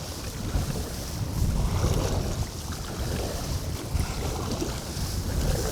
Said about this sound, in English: look at this wind. This is crazy.